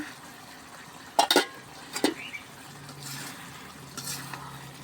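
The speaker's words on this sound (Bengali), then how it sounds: "এখন আমি ঢাকনাটা খুলে দেখবো আমার রান্নাটা হয়েছে কিনা" Lid lifted off a pot of dried fish curry with potato and eggplant, two sharp metallic clanks close by, then a quiet bubbling simmer underneath.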